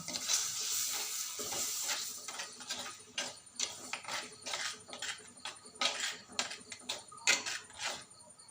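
Tamarind water pours into a simmering curry in a pot, a steady liquid wash with bubbling sizzle and occasional utensil clinks, moderately loud and close with no voice.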